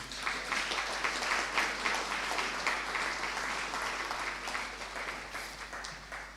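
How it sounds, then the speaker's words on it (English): A lecture-hall audience at a law school public lecture gives a sustained round of applause welcoming a counsel to the podium; steady, dense clapping from many hands, fairly distant, with no speech over it. "let us welcome him with a round of applause"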